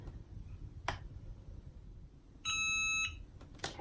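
A Cricut heat press timer gives one steady electronic beep, held for about half a second over a low background hum, with faint clicks before and after.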